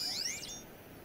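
An electronic alarm in the video game Horizon Zero Dawn, a burst of rising and falling synthetic chirping tones that fades quickly into a soft hiss.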